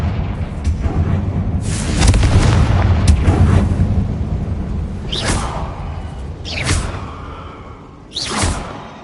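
A Harry Potter video game's Confringo blasting spell goes off as repeated whooshing bursts and booming explosions, several separate blasts spaced a few seconds apart over a rumbling background.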